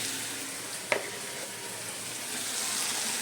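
Chicken with potatoes and capsicum fries in a pan while being stirred. A soft, steady sizzle runs throughout, broken once by a single sharp utensil clink.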